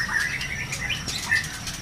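A bird being shipped by air cargo to Medan flutters its wings inside its container, with several quick bursts of flapping and faint high chirps over steady background noise.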